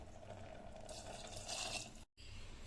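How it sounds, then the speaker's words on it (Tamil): Water is poured from a glass onto rice in a cooking pot, a soft steady splashing that swells, then stops abruptly before low background noise returns. "அதுக்கு 3 கிளாஸ் தண்ணி ஊற்றணும்"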